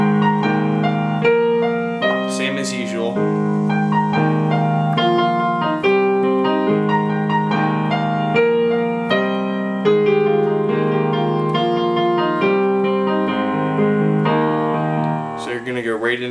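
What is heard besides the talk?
piano playing the last chorus of a song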